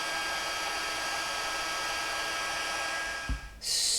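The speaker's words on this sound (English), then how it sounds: "we're going to take the Stampin' Heat tool and we're going to heat this up" A Stampin' Up heat tool blows hot air for heat embossing gold on vellum, a steady close whooshing hiss that is cut off near the end, followed by a brief burst of noise.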